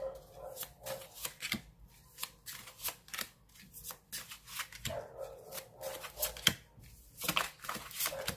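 Tarot cards are shuffled in quick, crisp riffling bursts, close and fairly quiet, repeating irregularly with soft taps between them.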